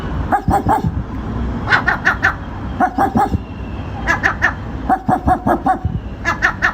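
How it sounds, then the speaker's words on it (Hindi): A pet seagull giving sharp, repeated bark-like calls in quick bursts of three or four, loud and close, over a background of low murmuring voices. "I think my seagull barks."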